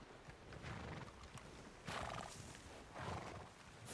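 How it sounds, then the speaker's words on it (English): Ranger horse on patrol in the WildRP video game, whinnying loudly over a steady clip-clop of hooves, close and continuous. "It's one of those ranger horses on patrol."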